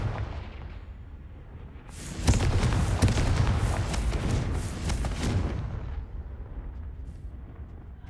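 A Confringo blasting spell goes off in a Harry Potter game, a loud sustained rumbling explosion that bursts in after a quiet start, holds for about three seconds, then fades into a low ambient hum.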